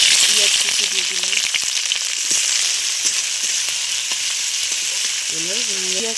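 Chopped onion fries in hot oil with cinnamon, cardamom, whole cumin and bay leaf, a loud continuous crackling sizzle with occasional stirring clatter, and a voice speaks briefly at the start and end.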